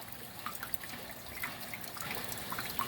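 Water pours back into a home aquarium holding a whiptail catfish after an oversized water change, a soft steady trickle and splash with small bright droplet plinks scattered throughout, close by and fairly quiet.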